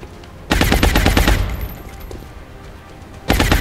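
Rapid automatic gunfire in the video game XCOM, aimed at chrysalids: two loud, dense bursts of fast shots, the first ringing out into a fading echo before the second begins.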